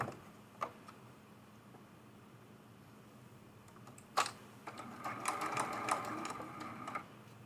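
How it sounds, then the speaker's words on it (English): A sewing machine stitches down a quilt-as-you-go table runner, with quiet mechanical whirring, scattered ticks and a rising burst of faster stitching toward the end, close by and without talk. "Get it lined up, and we will sew it down."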